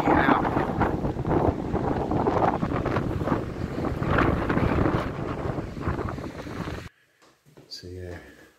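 Strong wind buffets the microphone outdoors near a remote Highland bothy, a loud continuous roar with someone speaking over it, then cutting off abruptly into quieter indoor sound.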